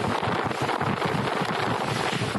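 Strong sudden wind sweeping through a cluster of vendor tents at an outdoor festival site, a loud, constant roaring gust buffeting the microphone with no voices audible.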